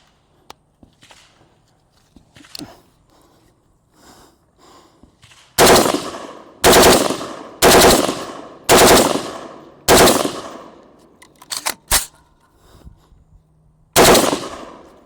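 An Atrius Super Selektor airsoft gun fires in semi-auto, with faint handling clicks first, then a close, loud series of sharp reports, several coming as quick two- or three-round bursts with short gaps between them.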